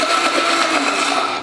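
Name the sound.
blender briefly blending basil pesto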